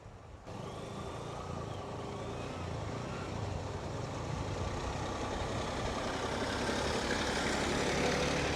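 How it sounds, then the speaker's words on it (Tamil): A heavy tractor engine rumbles steadily and grows gradually louder as it approaches through floodwater in Kilinochchi, a low mechanical drone with no talking. "ஒரு டிராக்டர் ஒன்று வருது பாருங்க"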